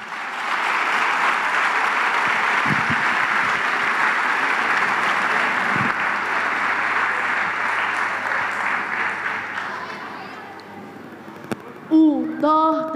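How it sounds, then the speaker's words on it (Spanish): An audience at a carnival murga presentation applauds in a dense, sustained wave for about ten seconds; the applause fades as a few voices and singing tones come in at the end. "Así que un fuerte aplauso"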